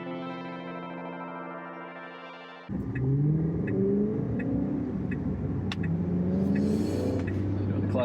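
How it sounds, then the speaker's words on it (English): A Tesla on Full Self Driving speeds up on an Australian road, a steady rising whir and road rumble heard from inside the cabin after a held electronic tone, with faint clicks above. "I'm going to accelerate here."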